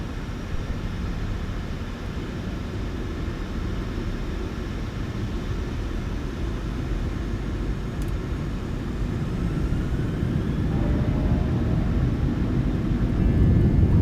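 An airliner's engines drone steadily in Microsoft Flight Simulator, a broad, loud roar that swells gradually toward the end with no talk.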